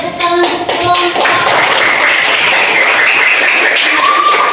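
An audience claps for a presenting group in a classroom, steady dense applause that swells and holds loud and close throughout, with a few voices mixed in.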